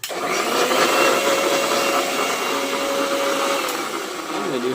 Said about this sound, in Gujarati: દૂધીનો જ્યુસ બનાવી દો મિક્સરમાં